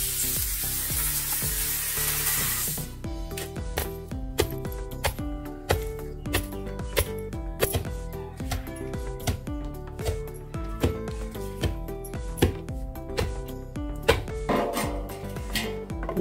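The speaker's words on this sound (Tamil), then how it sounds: "இப்போ மறுபடி இதை வந்து உரலில் போட்டு இடிக்கணும்" Castor seeds pounded in a stone mortar at home for making castor oil, a long series of dull, regular thuds with a short hiss at the start.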